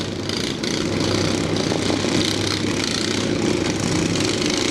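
Lawn mower engines roar and drone together at an extreme destruction lawnmower demolition derby, a dense, loud, unbroken mechanical rumble with crowd-like noise mixed in.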